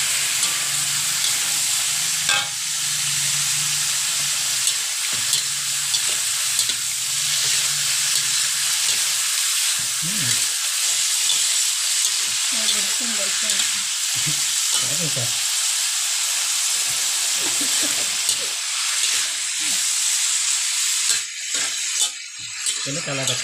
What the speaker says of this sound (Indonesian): kita akan tumis-tumis lagi agar kecapnya pun tercampur merata dengan bahan dan bumbunya, sehingga boleh meresap ke dalam kikil